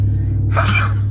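A single sharp sneeze bursts out about halfway through, close and fairly loud, over a steady low electrical hum.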